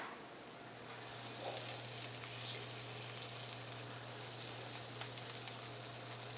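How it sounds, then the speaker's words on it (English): Lamb sears in a hot pan at a bistro, a broad, steady sizzle and hiss that holds evenly throughout, close and moderately loud, with a faint low hum beneath. "we're going to take the lamb right into the pan. You can hear that good sear happening."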